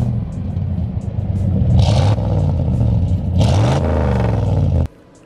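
A loud Chevy pickup ranch truck engine rumbles close by, swelling in two revving surges before cutting off abruptly near the end.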